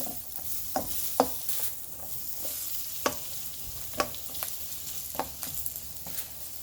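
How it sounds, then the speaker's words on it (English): Vegetables simmer in butter in a pan for a pork chop dinner, a soft continuous sizzle broken by sharp scrapes and clacks of a stirring utensil at irregular intervals, close by with no talking. "just allow it to simmer in the butter"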